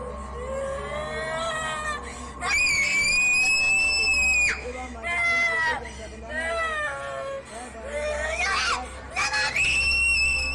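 A person thought to be possessed screams and shrieks repeatedly while two women pray, the loud, wavering cries rising and breaking over a constant low hum with voices underneath.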